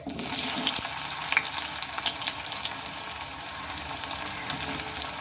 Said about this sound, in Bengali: এই পেঁয়াজটাও আমি দিয়ে নিলাম এবার এই পেঁয়াজটা একটু ভালোভাবে ভেজে নিতে হবে